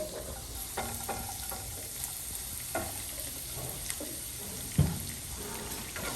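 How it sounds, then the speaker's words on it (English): Chopped garlic and diced onions sauteing in oil for a beef taco filling give a steady, quiet sizzle, with occasional louder clicks and one sharp knock as they are stirred. "So a little bit of oil, I'm going to add some chopped garlic and diced onions."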